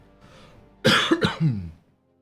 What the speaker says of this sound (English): This cough is kicking my ass.